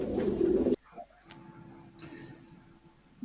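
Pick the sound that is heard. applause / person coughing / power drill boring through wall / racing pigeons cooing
racing pigeons cooing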